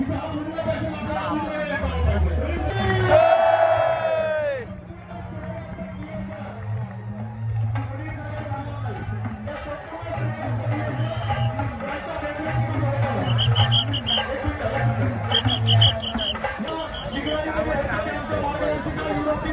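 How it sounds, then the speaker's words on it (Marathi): A large crowd jammed together outdoors at 8 at night, a steady hubbub of many overlapping voices with nearby shouts and a low rumbling hum running underneath. "आता संध्याकाळी वाजले 8 रात्रीचे फुल गर्दी जाम झाली"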